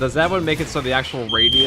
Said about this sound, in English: that was my smoke alarm beeping up